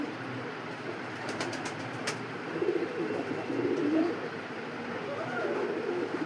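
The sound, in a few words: Coca pigeons cooing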